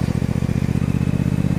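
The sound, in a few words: motorcycle being ridden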